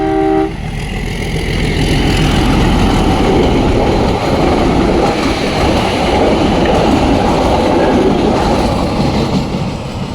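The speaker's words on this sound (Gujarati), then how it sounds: "સામેથી આવે છે ટ્રેન" A train rumbles past close by in rural Gir, Gujarat, a loud continuous roar and rattle of wagons, preceded by a short horn toot at the start.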